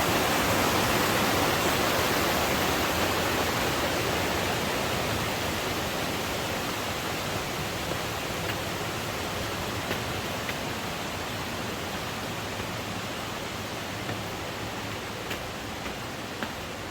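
Steady, dense roar of a waterfall cascading down a mountain stream on the Alum Cave trail to Mt. LeConte in the Great Smoky Mountains, a continuous close hiss of falling water with no voices.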